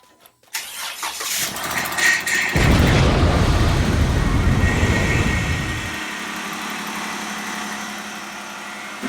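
A Jeep Wrangler engine starts after a drive belt change: it cranks briefly, catches with a loud roaring rev, then settles into a steadier lower idle that continues to the end.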